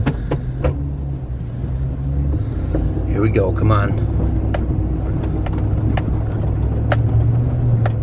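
A four-wheel-drive pickup grinds through a muddy cornfield with a steady low engine rumble and drivetrain drone, punctuated by sharp knocks and splashes, while someone speaks briefly in the cab.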